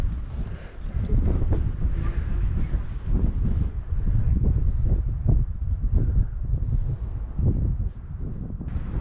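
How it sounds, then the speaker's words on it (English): Strong wind buffets the microphone at the top of Cloud Splitter, a rock formation, a steady loud roaring rumble with gusty surges throughout, close and continuous with no other clear sounds. "It's very windy up here."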